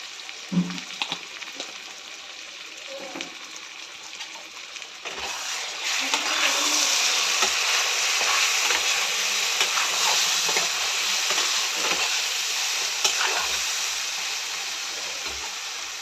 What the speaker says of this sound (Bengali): মশলাটা ততক্ষণ ভাজবো যতক্ষণ মশলা থেকে কাঁচা গন্ধটা দূর না হয়